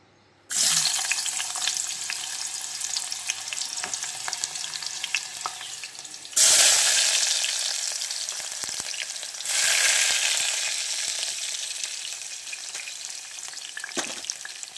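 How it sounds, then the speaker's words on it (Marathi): Chopped onion drops into hot oil in a pan, bursting into a loud sizzle that runs steadily, with fresh surges of crackling as the onion is moved, close and alone. "आपलं तेलसुद्धा तापलेलं आहे तर दोन्ही याच्यामध्ये आपण कांदा टाकून घेऊया"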